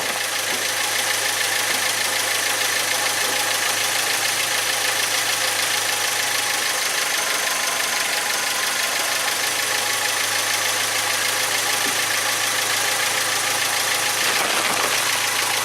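A Geo Tracker from the 1989 to 1998 range, fitted with a second alternator, idles with its headlights off, giving a loud, steady engine hum and rattle that runs unbroken throughout with no talking.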